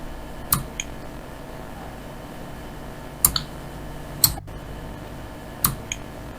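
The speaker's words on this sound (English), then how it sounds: "You can hear some what sounds like mouse clicking in the background." Sparse mouse clicks in an office setting, a handful of sharp, isolated taps spaced a second or more apart, faint against a quiet background.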